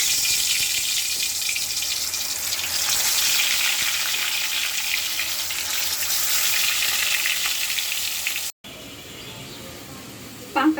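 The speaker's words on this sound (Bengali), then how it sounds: "এখন মাছটা আমি ভেজে নিব।" Turmeric-and-chilli-coated pangas fish frying in a pan, a loud continuous hiss of hot oil that holds steady, then cuts off abruptly before a brief quieter tail with a knock at the end; no speech.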